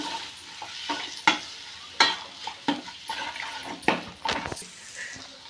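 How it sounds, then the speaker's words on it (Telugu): A spoonful of ginger paste frying in a pan, stirred repeatedly, giving a bright crackling sizzle with sharp scraping strokes about every second, close and moderately loud. "బాగా వేయించుకోవాలి ఇప్పుడు అల్లం పేస్ట్ ఒక స్పూను ఇప్పుడు పచ్చివాసన పోయేంత వరకు వేద్దాం ఇది కలుపుకొని"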